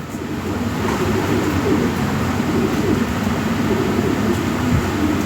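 Pigeons coo in low, overlapping murmurs, steady and close, filling the space with a continuous soft burble; American Archangel, Modena and Lahore pigeons kept for sale.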